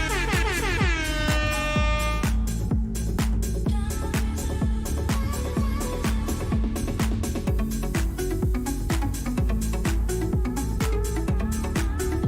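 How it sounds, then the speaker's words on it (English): Air horn blasts at an NFL preseason watch party, loud repeated sounds in a rapid rhythmic pattern over pounding music, dominating throughout. "Gotta get the air horn out, yo."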